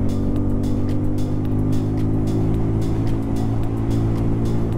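Bajaj Pulsar N250 motorcycle engine running steadily loud and close in city traffic, a sustained harmonic drone with a slight rise in revs, with no speech.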